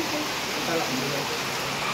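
Heavy rain pours steadily as a dense, continuous broadband wash with no breaks, loud and close throughout.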